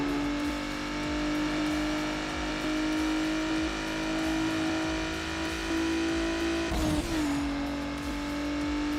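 Racing car engine in Need for Speed Underground Rivals revving hard and accelerating under nitrous boost, a loud sustained whine that climbs steadily in pitch, with a brief burst of tire or impact noise near the end.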